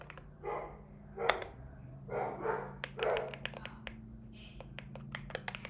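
Pet dogs indoors give a few barks in short clusters early on, then go quiet. Crisp computer-keyboard typing clicks carry on over a low steady hum.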